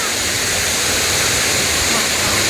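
Busay Falls waterfall in the province, a steady broadband roar of falling water filling the clip without pause, fairly close and loud.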